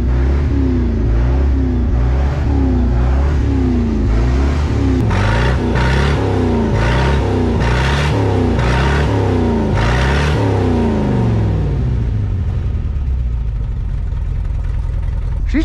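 A 1979 Ford F-250 engine, missing on one cylinder, cranks over in a loud, rhythmic, chugging cycle up close. It then catches and revs in a series of pulsing surges before settling back.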